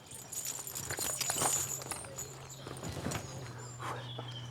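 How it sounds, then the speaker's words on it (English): A horse shifts and steps on a hard farmyard surface while being tacked up, a few scattered hoof clops and knocks against quiet background, with some faint talk. "It's always the hardest bit of getting a horse tacked up"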